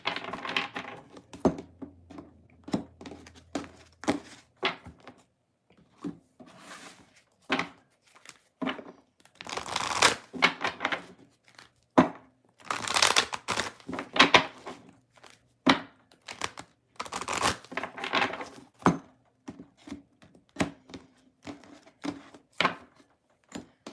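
Tarot cards being shuffled by hand, a series of close, crisp riffling and tapping bursts with short pauses between them, uneven in rhythm and heard alone without talk.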